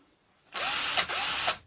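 A power drill spinning a bicycle dynamo whirs loudly at high speed in two steady bursts, with a brief dip between them, close by and without voices.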